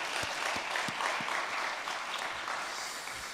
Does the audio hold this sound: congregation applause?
yes